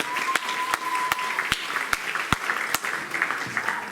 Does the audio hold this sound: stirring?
no